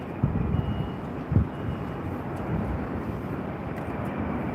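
A Qantas Airbus A330-300 airliner gives off a distant, steady jet roar, a faint broadband rumble muddied by wind buffeting on the microphone.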